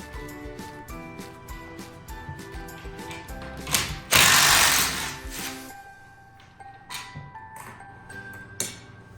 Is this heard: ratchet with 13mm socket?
yes